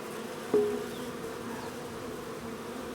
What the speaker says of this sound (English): Something tells me I've got a lot more bees now.